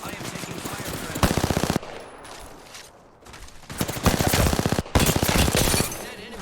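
Video game battle gunfire, with rapid automatic bursts hammering out close and loud. Three main bursts are split by quieter stretches of lighter shots and background battle noise.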